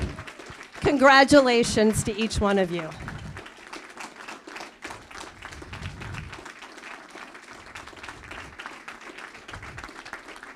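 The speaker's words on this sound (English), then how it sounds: "round of applause." Audience applause for a group of kids at a finals ceremony, a short loud burst of clapping under a speaker's voice that quickly fades to scattered claps and room noise while he keeps talking.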